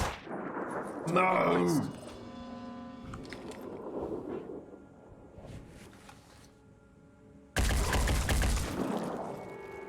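Gunfire in the turn-based game Phoenix Point: a sharp burst early on, then a long loud volley of rapid shots near the end. A voice shouts once amid the game sounds.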